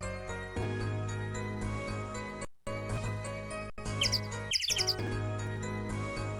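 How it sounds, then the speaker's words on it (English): Bird chirps from the Apollo Justice video game come as a cluster of quick, bright, high tweets over a sustained musical backing, with brief silent gaps between passages. "there's several different types of chirps here"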